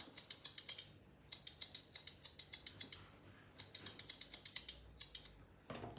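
Scissors snip through thick ear hair on a Toy Poodle in rapid runs of crisp, close metallic clicks, pausing briefly between bursts.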